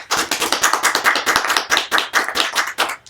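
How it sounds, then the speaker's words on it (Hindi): Audience clapping to welcome a guest onto an interview set, a steady run of sharp, close hand claps, loud and continuous with no talking. "जोरदार तालियों से उनका स्वागत कीजिए।"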